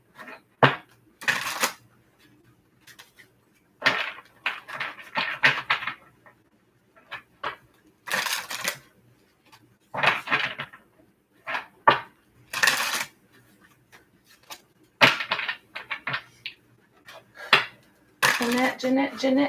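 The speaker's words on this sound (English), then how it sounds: "this will be our last shuffle" Tarot cards shuffled repeatedly, producing a run of brisk riffling bursts and soft slaps separated by short pauses, close and moderately loud, no talk.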